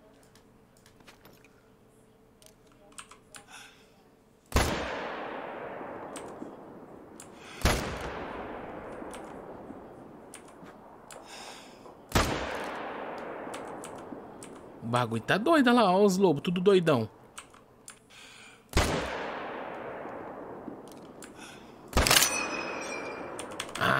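Sharp rifle shots ring out one at a time in The Hunter: Call of the Wild during a wolf hunt, five or six loud cracks with long decaying echoes spaced several seconds apart, and someone talks between them.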